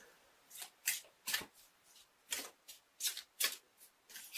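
An Archangel Michael oracle card deck by Doreen Virtue is shuffled in short papery riffles and slaps, about ten quick bursts spaced irregularly, close and quiet with no talk.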